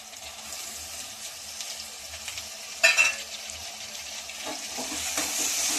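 Tomato added to ginger-garlic paste frying in a pan for capsicum rice and stirred in, a steady sizzle with a brief loud splash and scrape midway, then a louder hiss.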